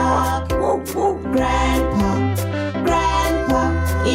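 Dog barking within a bilingual children's family song, short bark-like yips layered over bright music with guitar and melodic tones, loud and continuous throughout.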